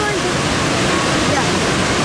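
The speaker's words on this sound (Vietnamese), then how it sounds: "Kia là thác, ấm nước tung tóe luôn" Ban Gioc waterfall on the Vietnam–China border roars close and loud, a dense, unbroken wash of falling and splashing water with no pauses.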